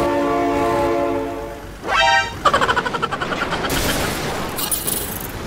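In a BeamNG.drive game, a train horn blares in a long held chord, then the train clatters past with rapid rhythmic thumps and clanks, followed by a bright rushing noise as it goes.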